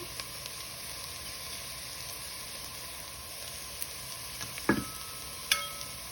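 Chopped garlic fries quietly in a pan for creamy potato soup, giving a faint steady sizzle broken by a couple of sharp utensil scrapes and taps near the end.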